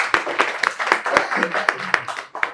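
A small group claps for a student at an AC PCB repair training institute: a quick run of sharp, close handclaps under ongoing talk.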